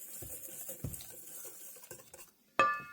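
A spoon stirs blueberry streusel muffin batter in a bowl with soft, irregular scraping and tapping, ending in a sharp, ringing clink against the bowl's rim.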